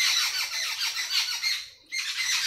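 Bright bird chirps and squawks fill a green home garden on a rainy day, close and continuous, broken by one brief lull before the calls resume.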